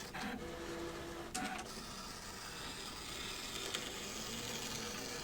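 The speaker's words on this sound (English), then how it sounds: "So it's going back and measuring to see if it has to go deeper." A Brother ScanNCut DX cutting machine with an auto blade measuring fabric for coasters, giving quiet mechanical whirring with a few brief motor buzzes and clicks, with no talk.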